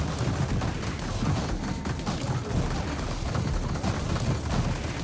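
Rapid bursts of shotgun fire from robots in the video game Terratech Legion, dense overlapping blasts forming a continuous, rumbling barrage at a moderate level, with no talking.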